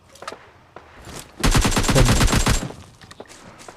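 AKM rifle fire in a battle royale video game, a dense rapid burst of about a second standing out over quieter surrounding game sounds, with a few scattered shots before and after.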